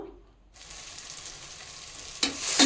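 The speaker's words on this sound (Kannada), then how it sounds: "ಇದರ ಹಸಿ ವಾಸನೆ ಹೋಗೋ ತನಕ ಫ್ರೈ ಮಾಡ್ಕೋಬೇಕು" Onions with ground masala paste start frying for mushroom biryani; after a brief quiet moment a soft, steady sizzle rises, then a louder hiss bursts in near the end, with no talking.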